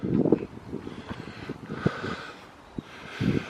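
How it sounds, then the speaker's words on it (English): Wind buffets an outdoor microphone near a church on a breezy morning, producing low rumbling gusts and thumps that rise and fall irregularly, with a faint steady background hum. "It is windy today, this morning."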